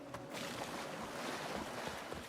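A waterfall in the fantasy game Avowed, heard as a soft, continuous rushing wash of falling water, steady and fairly quiet throughout with no voices.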